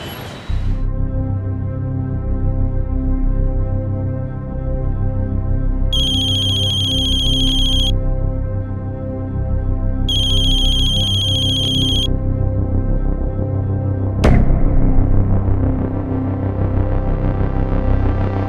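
Phone ringback tone heard while a call to a husband connects: two long steady electronic rings separated by silence, over a low background hum, followed by a sharp click near the end.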